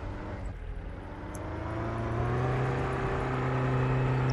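Car driving in the LEGO Worlds video game, a smooth engine whir that slowly climbs in pitch and grows a little louder as it accelerates, with no talk.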